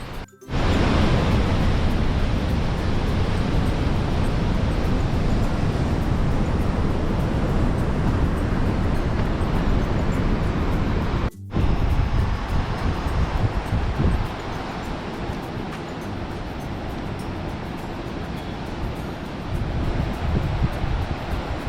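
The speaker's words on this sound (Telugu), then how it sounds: "మేము ఆన్ ద వే వచ్చేటప్పుడు ఇక్కడ గేట్స్ అన్నీ ఎత్తేసారు." Water pours through the open gates of Nagarjuna Sagar Dam in a loud, steady, unbroken roar that fills the whole soundscape, with no voices over it.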